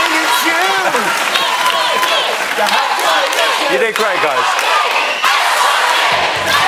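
A studio audience at a live show of The X Factor 2010 TV talent show cheers and applauds loudly and steadily, with someone talking over the crowd noise.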